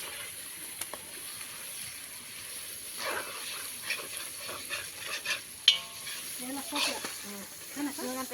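Pieces of duck meat from two ducks fry in oil while being stirred, soft intermittent scraping and shuffling over a faint low sizzle, close and quiet.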